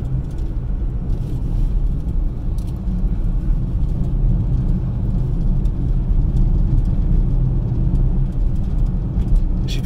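Inside a moving car, a loud, constant low road rumble and engine drone fill the cabin evenly from start to finish, with faint light ticks above and no speech.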